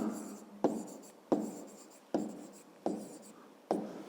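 A pen writes on paper while working a fifth-grade maths exercise, coming as five distinct scratchy strokes about every 0.8 seconds, each starting with a sharp attack and then fading, close and clear with no talk.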